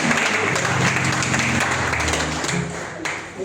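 An audience at a church gathering claps and applauds loudly and steadily for a few seconds, fading slightly toward the end.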